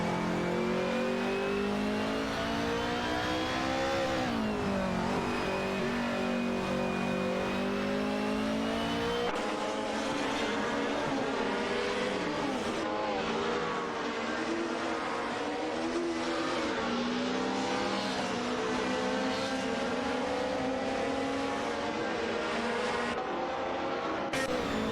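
Several race cars lap a track at racing speed, engines revving and changing pitch steadily as they accelerate and shift, with a dense, continuous motor roar throughout and no voices.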